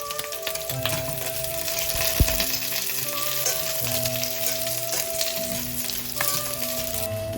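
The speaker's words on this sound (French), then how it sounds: "Écoutez ces crépitements, j'espère que ça vous donne l'eau à la bouche." Pork ribs brown in a hot pan, giving off a loud, steady sizzle and crackle with small pops throughout and one sharp clack partway through.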